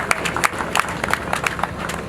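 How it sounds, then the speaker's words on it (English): Applause for the investor at a ground-breaking ceremony for Awka Millennium City, with brief scattered claps and crowd noise over a steady background hum. "I believe they deserve a round of applause"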